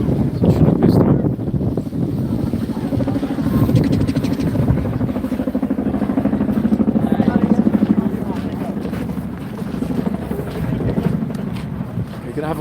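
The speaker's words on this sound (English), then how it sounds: "More helicopters coming as well." Helicopters pass overhead near Horse Guards with a loud, continuous chopping throb that swells and eases over several seconds, mixed with wind buffeting on the microphone.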